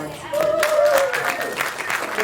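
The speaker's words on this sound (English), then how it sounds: "Give her a applause." Audience applause at an annual parks meeting, a steady burst of clapping from a room of people over about two seconds, with a faint held tone running through it.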